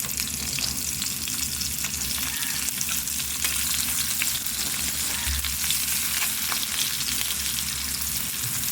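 Onions and a bay leaf frying in a pan give a loud, steady sizzle that runs unbroken throughout, with no voices.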